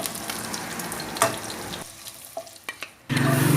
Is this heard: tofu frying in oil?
yes